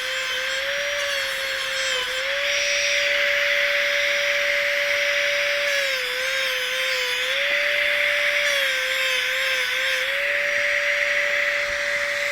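A motorized handpiece fitted with 220-grit sandpaper runs continuously for the whole stretch, giving a steady high whine with small dips in speed and a rough sanding hiss, with no talking.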